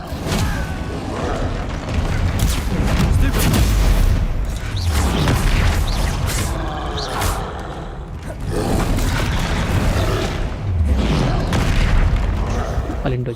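Bombarda blasting spell cast in the Hogwarts Legacy game during combat: heavy booming explosions and rumbling impacts with a loud, continuous battle din, while a player talks over the action.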